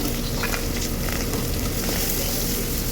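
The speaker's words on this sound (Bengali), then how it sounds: "তেলটা ভালো করে গরম হয়ে গেছে। এবার দিয়ে দিচ্ছি পেঁয়াজ আর লঙ্কাটা।" Sliced onions and green chillies dropped into hot oil with black cumin seeds, giving a loud, dense, continuous frying sizzle close up with faint stirring, no voices.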